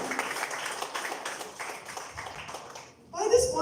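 A small group claps steadily for a few seconds, fairly close, then a brief pause before voices pick up.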